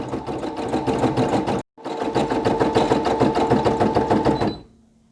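A Brother PE800 embroidery machine stitches a patch with a fast, even, mechanical whirring rhythm, loud and close, pausing briefly once and then winding down to a faint hum at the end; no talking.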